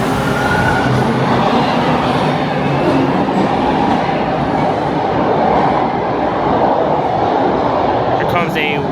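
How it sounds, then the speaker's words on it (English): Westbound subway train on Toronto's line toward Islington near Old Mill Station, a loud close continuous rumble and rattle of wheels on track filling the whole stretch. "Here comes a westbound train."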